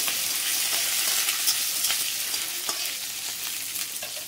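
Curry leaves frying in hot oil for a Goan-style vegetarian dal, a steady close sizzle with scattered sharp pops and crackles throughout, no voices.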